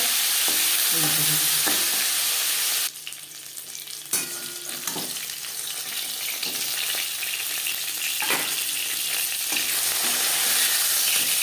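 Rui fish frying in oil in a pan, giving a loud, steady sizzle with crackling and occasional scraping and stirring sounds throughout.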